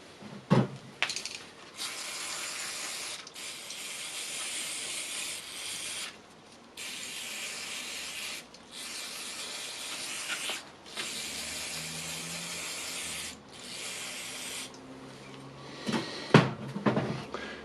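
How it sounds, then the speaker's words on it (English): Can of brake cleaner sprayed in a series of long hissing bursts separated by short pauses, close and fairly quiet, with a few clicks and clatters at the start and end, done while cleaning the chuck of a Makita DDF482 drill. "and spraying it with a brake cleaner"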